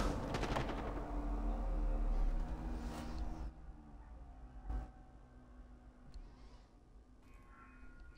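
Gunfire in the video game Call of Duty: Black Ops 6, with a rapid burst of shots at the start and then a few scattered, quieter single shots in the distance.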